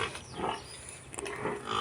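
A farm buffalo gives a low, close bellow or grunt, a brief rough call lasting under two seconds with no talk.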